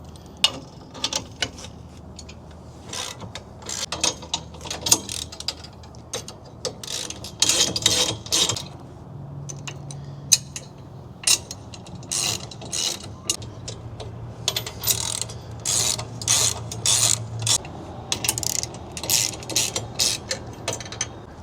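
Ratchet wrench with a 3/4 inch socket tightening bolts on a bike rack, giving repeated bursts of quick clicking strokes with short pauses between them, close and fairly loud, with no talking.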